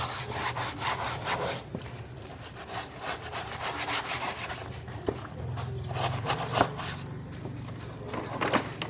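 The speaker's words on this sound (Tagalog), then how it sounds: "Babrasin natin yung mga gate" A brush scrubs a dusty gate clean with quick, irregular scraping strokes, close and fairly loud, bristles rasping against the surface in uneven bursts.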